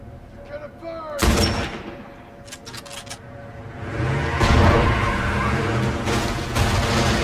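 Gunfire at vehicle tires, a sharp loud crack at the start followed by a cluster of quick bursts, then a sustained roar of heavier fire and rumble, with distant voices faintly underneath.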